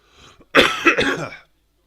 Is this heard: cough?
yes